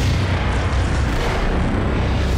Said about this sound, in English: That was just a random giant explosion